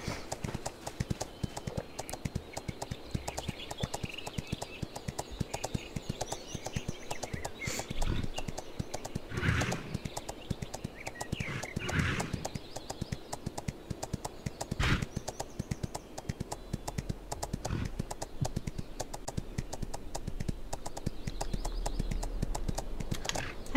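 Horse hooves clip-clop in a steady trotting rhythm while riding in the Astellia online game, continuing throughout with light clicking and a few louder thumps, fairly close and unaccompanied by talk.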